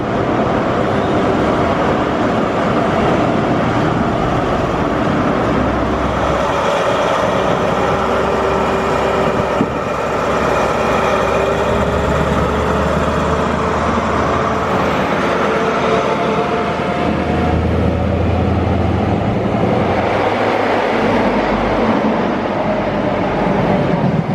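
Steady loud rumble and rattle of a Pacer diesel train in motion near Dawlish, heard from inside, with continuous engine drone and shifting low vibrations throughout.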